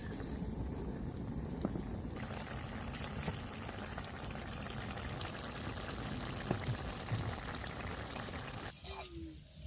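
Spice water poured into a pan of ridge gourd and prawns, with a continuous bubbling, hissing cooking wash, a brief pour and some clatter; a voice murmurs faintly beneath.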